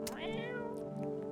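A cat meows once in the video game No I'm Not A Human, a short, clear, rising-then-falling cry heard alone and close.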